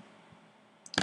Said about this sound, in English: So we'll click that button and activate